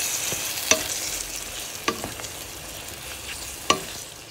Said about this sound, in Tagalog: Inahalagyan natin yung marinated chicken.